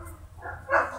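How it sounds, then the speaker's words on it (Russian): A dog gives a brief bark, ending in a sharp yip, heard close against a faint low background hum. "Это собака."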